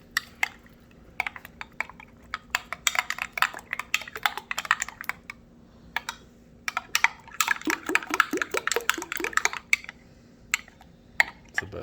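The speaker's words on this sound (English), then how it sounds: "the last step is to stir it all together to make our honey mustard sauce" Honey mustard sauce being stirred in a bowl gives off fast, irregular clicks and soft sticky taps, fairly quiet and close, with denser bursts of scraping about two-thirds of the way through.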